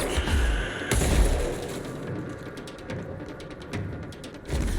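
Sniper gunfire in the video game Control, with heavy booming shots and a burst of sharp rapid cracks, loud and close, without talk.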